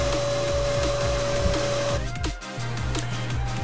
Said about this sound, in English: We also use a HEPA filter with the vacuum system to vacuum up the remaining dust before we lay down any